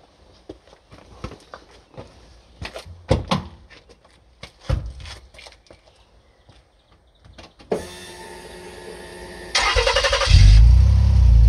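Someone climbs into a Rover 45 V6 car: scattered clicks, knocks and shuffling steps, a door thud, then a rising electric whir and a loud, rumbling mechanical hum near the end as the brakes are pumped.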